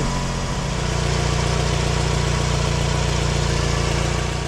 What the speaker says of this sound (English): There go Troy driving off in his Camry for the first time in, what, a month?